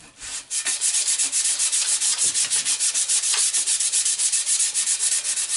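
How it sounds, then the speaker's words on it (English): An axe head being restored is worked over by hand with coarse sandpaper, giving a steady, close rasping rub in quick back-and-forth strokes, loud and continuous with no talk. "I'm going to clean that up with some sandpaper. Obviously start with the more coarse."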